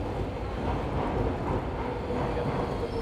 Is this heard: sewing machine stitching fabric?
no